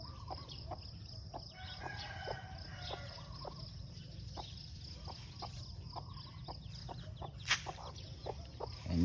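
Chickens cluck and murmur around a backyard farm during morning feeding, with short scattered calls over a steady low background hum, moderately distant and fairly quiet.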